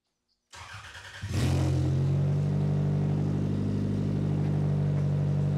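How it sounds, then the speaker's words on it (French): A demolition derby car's engine cranks after brief silence, catches with a sharp burst and settles into a loud, rough, steady idle close by, with no talk. "Bon, start engine."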